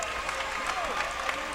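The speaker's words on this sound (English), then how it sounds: "As he gets a nice round of applause from the Jaguar faithful here." A sellout crowd applauds at a high school basketball championship game, with steady, dense clapping filling the gym while a commentator talks over it.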